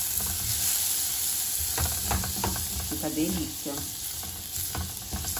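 Garlic and okra fry in a pan with a steady close sizzle and occasional stirring scrapes, while someone speaks briefly over the cooking.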